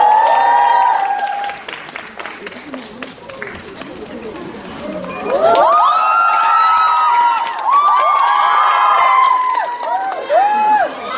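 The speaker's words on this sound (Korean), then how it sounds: "큰 박수로 맞이해 주십시오." Crowd at a live film talk event applauding and cheering as guests come on stage, loud clapping with excited shrieks and chatter, swelling into high-pitched screams in the second half.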